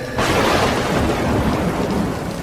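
Heavy rain pours in a dense, close, continuous roar with rumbling thunder in a thunderstorm, loud and unbroken from start to finish.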